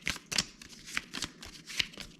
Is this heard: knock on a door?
no